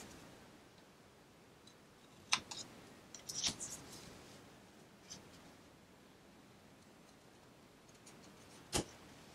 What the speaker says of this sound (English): I am going to trim those two corners down just a hair.